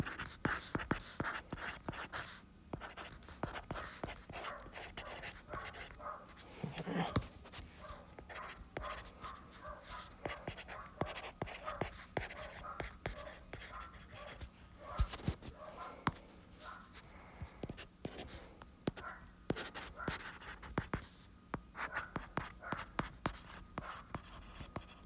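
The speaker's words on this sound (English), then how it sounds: "Let me just write that down." A pen scratches across paper by hand while working through math homework, producing faint, quiet, irregular strokes and taps that continue throughout, close by and without talk.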